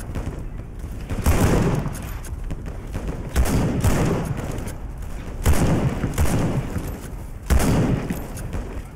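Rifle fire in the WWI trench-warfare game Over The Top: about four loud, booming shots at roughly two-second intervals, each trailing into a rumbling echo over a continuous battlefield din.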